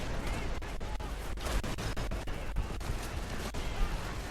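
Dense, continuous gunfire and explosions in the PS3 game Call of Duty 3, running on an emulator, with rapid repeated shots and blasts filling the whole stretch over a constant loud roar.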